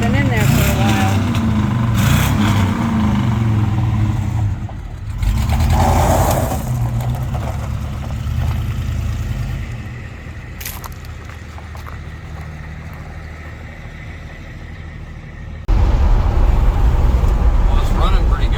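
Engine of an LS-swapped Chevrolet squarebody C10 pickup running, a low steady rumble that drops and then surges louder near the end, with speech heard alongside.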